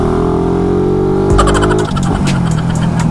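Motorcycle engine with a loud muffler: a steady, close idle that breaks into a brief, sharp rev blip midway, then settles into a rough, uneven rumble, with no voices.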